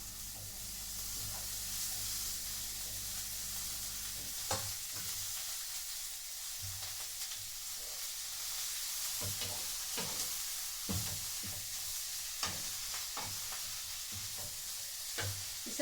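Finely shredded cabbage frying in a pan: a loud, continuous sizzling hiss broken by repeated scraping knocks of stirring, close by and without talk.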